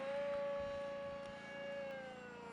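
HobbyZone Aeroscout RC airplane flying a loop, its electric motor giving a steady, loud high-pitched whine that holds one pitch and sags slightly near the end, continuous throughout with no talk.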